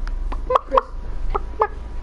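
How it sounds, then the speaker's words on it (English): Chickens in the Minecraft video game give a run of short, clipped clucks in an uneven rhythm, close and fairly loud, over a low steady hum. "Come on, chicken, lay the egg."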